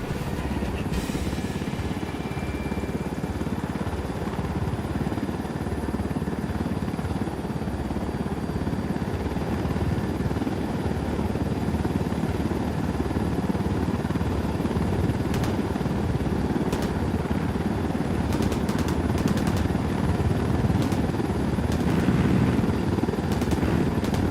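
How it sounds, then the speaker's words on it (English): Helicopter in a video game flying with a steady, loud rotor thrum and whine that holds throughout, with no talk over it. "Let's take your helicopter."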